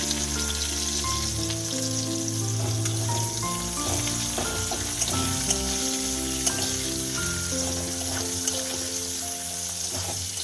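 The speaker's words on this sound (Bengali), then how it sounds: "পেঁয়াজটা মিনিট দুয়েক আমি ভেজে নেব" Chopped onion frying in oil gives a constant crackling sizzle at close range, with a steady tonal background sound running underneath.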